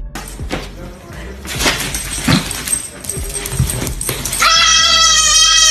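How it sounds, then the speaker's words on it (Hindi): A goat bleats loudly in harsh, strained cries amid a noisy outdoor scene, ending in a long wavering scream. "बकरी जोर से चिल्लाने लगी"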